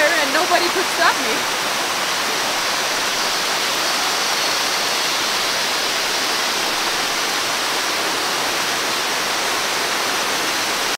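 A limestone waterfall pours in a steady, dense, loud rush that fills the whole scene, with a brief voice at the start.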